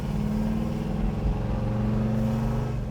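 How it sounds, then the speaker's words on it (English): A 1969 Pontiac GTO with a 4-speed idles through its exhaust in a steady, deep burble with a low droning pulse, close and continuous, with no talk. "Now listen to the exhaust."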